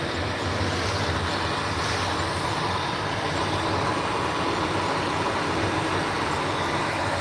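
An HO scale model locomotive runs along the track with a steady, even rumbling hum, continuous and fairly quiet throughout.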